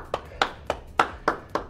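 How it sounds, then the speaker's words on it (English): Six sharp, evenly spaced hand claps ring out in a steady rhythm, close and fairly loud, from people applauding themselves at the end of a live cardio workout session. "we need to give ourselves a hand of applause"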